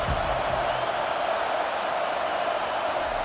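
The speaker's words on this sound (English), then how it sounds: "the crowd really getting into it" A stadium crowd roars steadily in College Football 25, a dense, loud, continuous wash of cheering and noise filling the whole moment.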